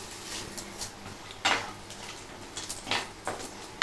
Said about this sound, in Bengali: এবার এইটাকে দিয়ে একটু নাড়াচাড়া করব।